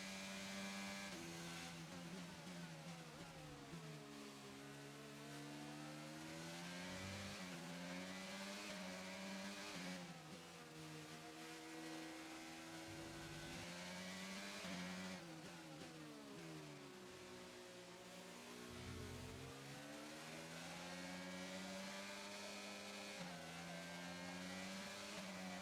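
Race car engine in the F1 2022 video game, droning loudly and continuously with pitch sweeping up and down through gear changes and corners, no talk over it.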